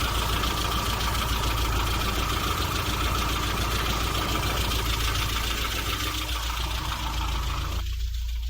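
A Rover Mini Cooper Sport from 2000 idles steadily and close by, a constant mid-pitched engine hum with a faint ticking texture that cuts off abruptly near the end.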